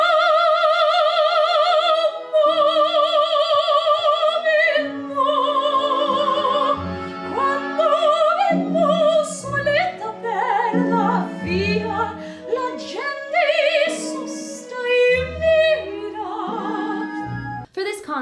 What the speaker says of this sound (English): Generally when I sing, it sounds something like this.